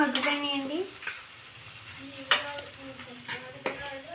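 Tomatoes stirred in a sizzling pan, with soft frying hiss broken by several sharp spoon scrapes and knocks against the metal, spaced about a second apart, while a voice speaks briefly underneath.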